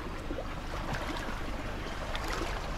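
Water flows steadily at a spring where a stream rises, a continuous close babble and trickle with scattered splashy gurgles, running without pause outdoors at Monte Fresco.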